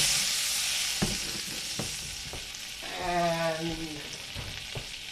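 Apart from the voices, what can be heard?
sous vide chuck steak searing in a pan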